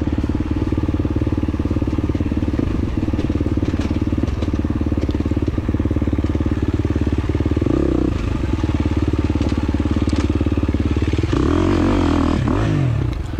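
A 2023 KTM 350 XC-F dirt bike races through a hare scramble course, its engine droning loud and close without a break, the pitch rising and falling with throttle changes while rattles and clatter from a rough landing break through.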